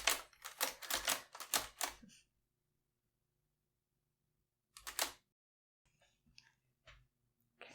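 Keys strike on a vintage typewriter in a brisk close burst of sharp clacks, then silence, followed by a single short flurry and a few faint scattered taps in a quiet room.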